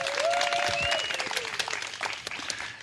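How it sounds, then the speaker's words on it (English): An audience claps in honor of a woman receiving a 10-year pin at a Sunday spiritual service, a moderate burst of applause that thins out over a few seconds, with a faint whistle-like tone near the start. "Let's give her a round of applause."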